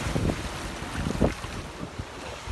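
Strong wind rushes and gusts around a sailboat at sea off Bimini in the Bahamas, near the Gulf Stream, during an evacuation ahead of Hurricane Dorian. The buffeting is loud and continuous, with low rumbling bursts and no talking.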